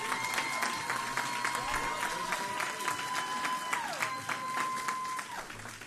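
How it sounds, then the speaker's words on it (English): A crowd applauds the young ladies at a Dr. Martin Luther King Jr. oratorical contest, steady dense clapping through the whole stretch at an even level. "Once again, give these young ladies a round of applause."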